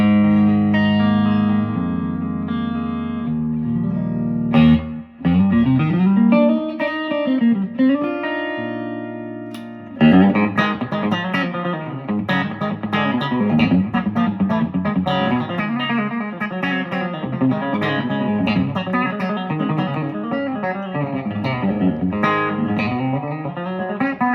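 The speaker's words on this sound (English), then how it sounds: "my old slapback delay in there." Electric guitar through a Victoria amp with a slapback delay pedal, a quick echo trailing each note, plays bending lines and strummed chords, loud and up front.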